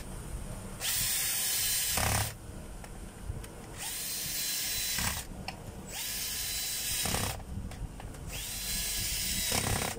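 A Dewalt D25810 5 kg electric jackhammer runs in three loud, steady bursts of roughly one to two seconds each, motor whining up and winding down between them, close by with no talk.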